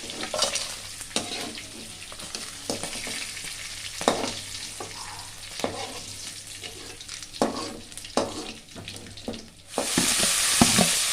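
Ingredients sauté in a hot pan with a steady sizzle and intermittent stirring scrapes, close and moderately loud, before a louder hissing rush of frying takes over in the final second.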